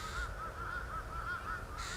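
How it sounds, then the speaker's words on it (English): Crows caw repeatedly in a rhythmic series, fairly faint and distant, over a steady outdoor background in Tokyo, with no talking. "Two crows are over there eating something."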